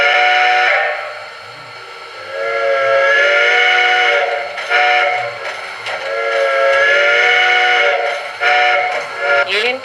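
Steam whistle from a TCS WOW Heavy Steam sound decoder in a model train, sounding a loud multi-tone chime in several long blasts separated by short gaps, with no talking.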